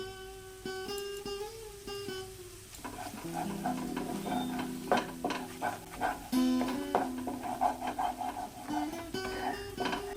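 A spice masala with Kashmiri chilli powder is stirred and sautéed in a pan: a soft sizzle broken by repeated scraping and stirring strokes over a background of sustained tones.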